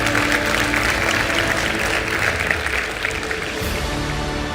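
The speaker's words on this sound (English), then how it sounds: "You can clap for that" A large audience at a leadership talk claps and applauds continuously, a thick, even roar of hands close and loud throughout, with a faint murmur of crowd underneath.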